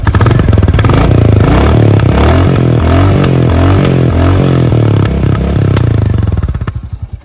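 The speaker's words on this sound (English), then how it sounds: "Now guys, listen to the exhaust note." A single-cylinder Royal Enfield Classic 350 motorcycle idles and revs nearby, its thumping exhaust beat loud and rhythmic, with mechanical clatter before it fades at the end.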